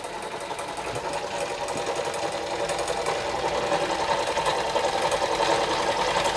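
A Doll & Co No. 56 1/2 model steam engine runs steadily on a low-pressure gas burner, its piston and con rod producing a fast, even mechanical chatter that stays constant and close throughout.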